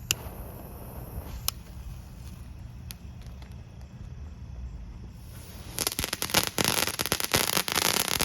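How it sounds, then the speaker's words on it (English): A crackle ball novelty firework goes off outdoors: after several seconds of quiet background with a few small pops, a dense burst of sharp crackling erupts and continues loudly to the end. "There's a little crackle pot, crackle ball, crackle cylinder, whatever you want to call it."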